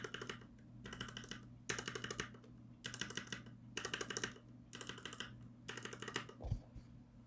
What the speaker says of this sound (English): I'll show a quick comparison right here side by side to show you guys how different they sound